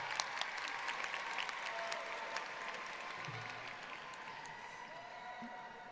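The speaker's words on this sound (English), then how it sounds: "Let's give him a round of applause." Faint, distant applause from a school district general assembly audience for a teacher of the year, scattered claps over a murmuring hall with a quiet voice heard now and then.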